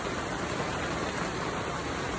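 Steady, dense rain pours down, a constant hiss of drops hitting surfaces with no pauses.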